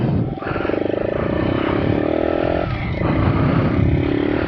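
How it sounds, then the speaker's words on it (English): An RPS Racer 140 motorcycle is ridden, its engine droning steadily with rising and falling revs, a step in pitch as it shifts midway, and loud wind and road noise throughout. "let's go for a little ride on the RPS Racer 140"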